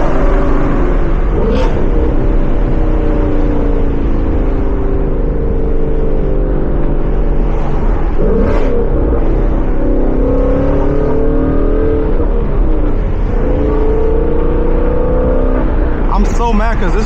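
A 2017 Ford Mustang GT with a Corsa Xtreme exhaust revs and rumbles loudly and continuously at close range, its engine tone rising and falling through several throttle blips and downshifts.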